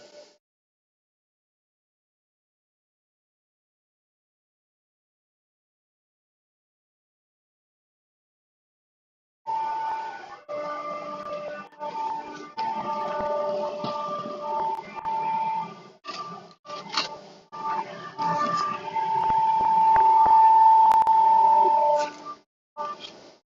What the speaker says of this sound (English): Apologies for the noise in the background if there is noise. The sander is on